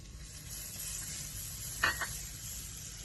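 Ginger sizzling in hot spiced oil with turmeric in a pan over a medium flame, a steady fine frying hiss throughout with one brief sharper crackle burst near the middle.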